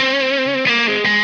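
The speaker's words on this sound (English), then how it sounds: "And then we hit the TC Electronic Booster Line Driver and Distortion pedal." An electric guitar runs through a TC Electronic Booster Line Driver and Distortion pedal, giving a brighter, crispier, higher-gain distorted tone with sizzle on top. It plays sustained chords that change twice, loud and alone with no talk.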